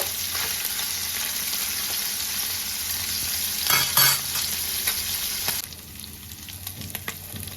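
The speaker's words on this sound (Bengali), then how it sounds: "তেলটা গরম হয়ে গেছে, এবার আমি মরলা মাছগুলো ভেজে নেব।" Small mola fish fry lightly in hot oil, a steady close sizzle broken by a couple of clattering stirs before the crackle settles quieter near the end; no one speaks.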